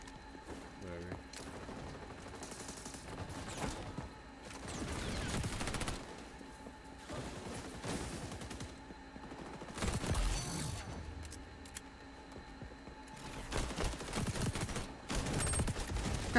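Gunfire in XDefiant, a shooter video game, with repeated bursts of automatic shots, some near and loud and others distant, under game effects throughout.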